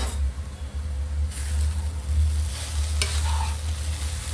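Grated sweet potato is stirred and fried in hot ghee for a sweet potato halwa, giving a steady close scraping sizzle over a low rumble, with a brief sharp scrape partway through.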